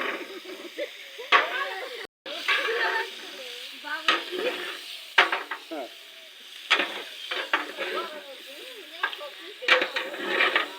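A large pot of khichuri cooks over an outdoor stove at a Pohela Boishakh picnic, with steady sizzling and bubbling and repeated scraping stirs of a ladle against the pot, while voices talk nearby.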